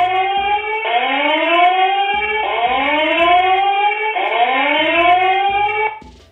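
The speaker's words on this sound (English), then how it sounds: "it also has a siren, which is pretty much like an alarm" A loud electronic siren from an indoor Bosma X1 home security camera wails in repeated rising sweeps, each cycle restarting about every second and a half, continuous and piercing until it cuts off abruptly.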